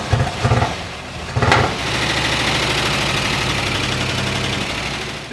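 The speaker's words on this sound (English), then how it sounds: "the engine was backfiring inside itself, which is, a good sign that the timing is off" A 1960 Ford Starliner engine with its ignition timing far too early runs roughly and loudly, opening with a couple of heavy bursts before settling into a rattly, uneven idle.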